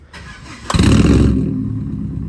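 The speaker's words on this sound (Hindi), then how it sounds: "बाकी इस छोटी सी गाड़ी का जो है ना साउंड चेक करवाते हैं भाईजान" A small four-cylinder car engine cranks and catches, then settles into a loud, rough idle close by, with no talking over it.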